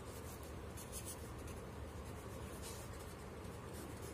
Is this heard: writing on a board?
yes